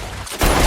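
Gunfire in an action film scene, a sudden loud burst of shots that cuts in abruptly over a quieter backdrop, brief and close.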